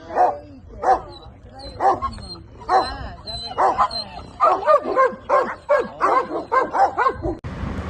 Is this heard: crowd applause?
no